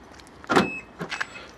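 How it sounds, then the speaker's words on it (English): Fiat Panda 4x4 Sisley central locking releasing the doors on a frosty morning: one firm mechanical clunk followed by a softer second actuator thunk, close by and otherwise quiet. "First test, do the doors unlock."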